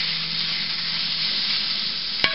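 Food sautéing in canola and olive oil, a close, steady, bright sizzle with stirring, ending on a single sharp utensil tap.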